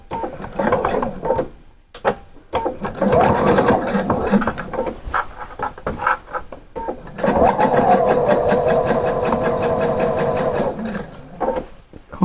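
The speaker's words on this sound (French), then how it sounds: "je couds à 5 mm du bord" A sewing machine stitches a skirt 5 mm from the edge, its loud close rapid needle rattle running in several bursts separated by short pauses.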